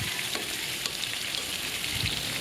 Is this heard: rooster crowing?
no